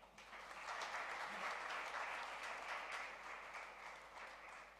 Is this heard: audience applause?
yes